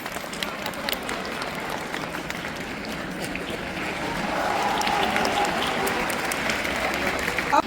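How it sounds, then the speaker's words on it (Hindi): Steady, dense clapping from an audience at a school annual function fills the room for students, swelling somewhat louder toward the end, with faint voices underneath. "जोरदार तालियों से बच्चों का प्रोत्साहन वर्धन कीजिए"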